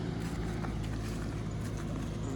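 A tractor engine runs steadily with a low, even rumble and throb, fairly quiet and unbroken, with no one speaking.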